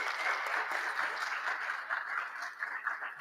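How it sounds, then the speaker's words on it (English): Steady crowd applause from a room of students at a Sunday-morning Grade 11 maths workshop, a dense continuous patter of many hands clapping for the full stretch at moderate level. "Give yourself a round of applause for your efforts."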